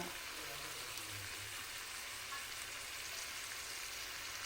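Brinjal pieces frying in a pan with mint and coriander for a chutney make a soft, steady sizzle that stays faint and even throughout, with no voice.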